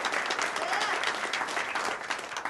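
Audience applause at a live late-night comedy talk show taping in front of a studio crowd, a steady dense wash of clapping that holds throughout at moderate volume, tapering slightly near the end, with no talking over it.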